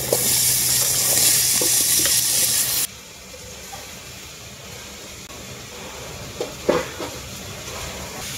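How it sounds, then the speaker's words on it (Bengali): Vegetables for khichuri (Malabar spinach, potato, pumpkin and long beans) are stirred in a pot, starting with a loud, steady sizzle that drops suddenly to a softer hiss broken by a few scraping stirs. "সবজিটাকে আমি আগে খুব ভালো করে নাড়াচাড়া করে নেব অল্প কিছুক্ষণ"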